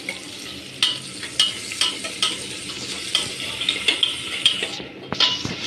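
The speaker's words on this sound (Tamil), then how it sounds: "அடுத்தது வெங்காயத்தை போட்டு கிண்டின்னு கிண்டணும்" Onions fry in a pan for venpongal, a South Indian rice dish, and are stirred briskly, so a constant sizzle runs under repeated metal clinks and scrapes of the spoon against the pan.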